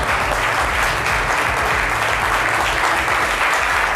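Studio audience at a French television talk show applauds steadily and loudly throughout, a dense, continuous wash of clapping with no pauses.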